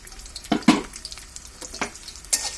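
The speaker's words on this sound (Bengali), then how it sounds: "একটু ভালোভাবে নেড়ে দিই।" A spoon stirs rice with softened onion, salt and ginger-garlic paste frying in a pan, giving a few scraping strokes over a low sizzle, close up and with no speech.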